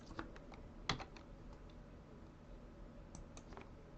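Quiet, irregular clicks of keys on a computer keyboard while code is edited, a few sharper taps scattered through soft steady typing, close and faint with no voices.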